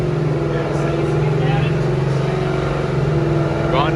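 A supercharged Ford Mustang engine spins on a dyno, holding a loud, steady high-rpm drone with a strong constant tone throughout and slight fluctuations near the end.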